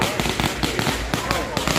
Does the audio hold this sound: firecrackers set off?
yes